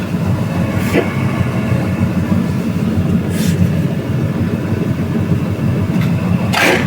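A homemade 600 kg livestock feed mixer with its auger running, giving a steady, loud mechanical drone throughout, with a few short scraping bursts breaking through.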